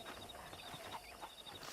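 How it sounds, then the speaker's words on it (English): Horse hooves clip-clop in a quick steady gait in the video game Red Dead Redemption, close and clear with no voices over them. "I picked out a fine horse for you. Giddy up!"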